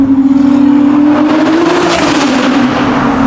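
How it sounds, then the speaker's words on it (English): A Novitec-tuned Ferrari 296 GTB V6 exhaust roars loudly as the engine revs up in first gear, the pitch climbing steadily, echoing inside a tunnel. "Listen to this exhaust."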